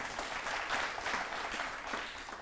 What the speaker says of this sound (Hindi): यहाँ जो लोग बैठे हैं ये भी ताली बजाकर आपकी भावनाओं का सम्मान कर रहे हैं।